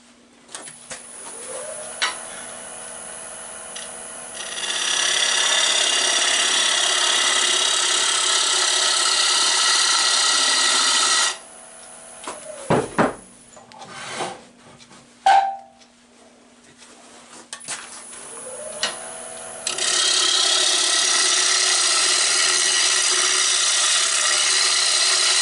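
A wooden bowl is shear scraped on a wood lathe, giving a steady, close scraping hiss over the motor's hum in two long passes, separated by a pause with scattered knocks and clatter.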